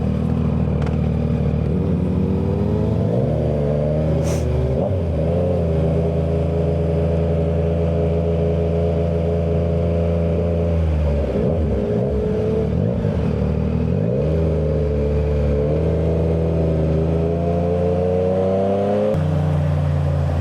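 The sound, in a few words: Harley-Davidson Street Glide motorcycle riding on the road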